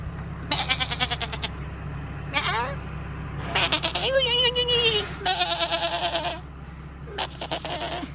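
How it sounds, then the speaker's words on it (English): A farm goat bleats repeatedly at close range, loud wavering cries in several bursts, while someone talks over and between them. "That's a goat."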